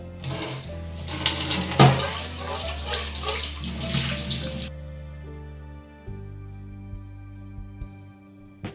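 Fish being washed under a running tap, with a steady splashing stream and handling sounds that soon give way to a quieter flow of water, close by with no talk.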